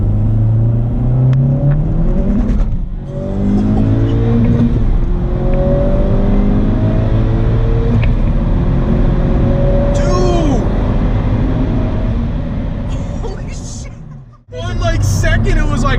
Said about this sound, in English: Seriously, guys, so we are doing a pull right now.